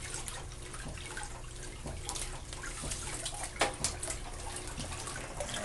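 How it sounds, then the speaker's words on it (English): A 1948 Kenmore wringer washer running, giving a steady, even wash of watery mechanical noise that holds at a moderate level throughout, with no talking. "So we'll turn the wringer on here."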